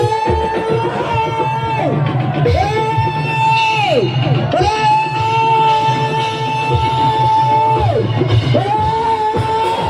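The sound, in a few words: congregation shouting loudly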